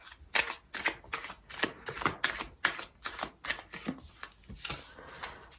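Tarot cards being shuffled in a quick, rhythmic series of papery riffles and slaps, about a dozen close, crisp bursts with short gaps between them, with no voices.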